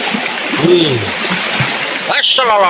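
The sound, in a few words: water splashing out of cut bamboo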